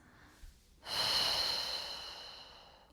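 A woman doing a standing hip-hinge pregnancy exercise with a resistance band lets out one long, loud, close breath that fades slowly, preceded by a brief soft intake.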